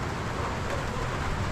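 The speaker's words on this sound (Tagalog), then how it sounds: "Ngayon, walang tigil ang ulan." Steady rain falling without pause on a wet afternoon outside a house, a continuous broadband hiss at moderate loudness with no voices.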